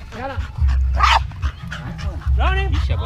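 A Patterdale Terrier barks excitedly in short repeated bursts at close range, mixed with someone talking and calling out during dog interaction with Pit Bulls at a training session.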